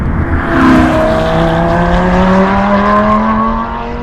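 A modified rear-wheel-drive 2004 Lamborghini Gallardo engine revs and climbs in pitch, a loud throaty roar that sweeps upward then eases off, with no talking.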